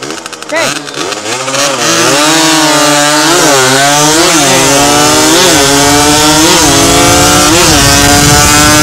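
Two Yamaha motorcycles, an RXZ and a 125Z, race on a road. Their two-stroke engines wind up loudly and close through repeated rising gear pulls, a harsh, buzzy, continuous roar.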